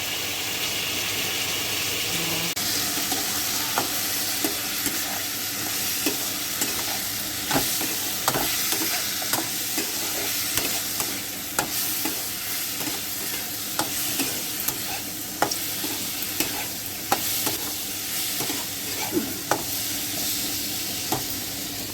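Dry red chilies and whole cumin tempering in hot oil for a dish with drumsticks, pumpkin and potato, a steady close sizzle and hiss with scattered crackles and stirring clinks throughout, no talking.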